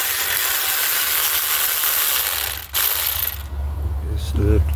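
A hand ratchet works loose the 10 mm bolts on the back plate of a 2009 Dodge Journey, giving a steady close clicking and grinding that breaks off briefly before a few metallic clinks.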